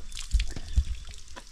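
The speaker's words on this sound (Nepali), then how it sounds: "मूलको पानी।" Spring water dripping close by, a few distinct drops falling in quick succession over a soft wet background.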